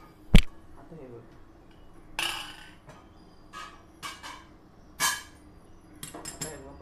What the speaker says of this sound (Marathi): आता झाकण काढते.